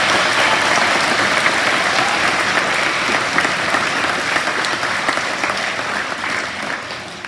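An assembly audience at a leadership awards event claps steadily for a student leader, a dense, loud wash of many hands that holds for several seconds and fades slightly at the end.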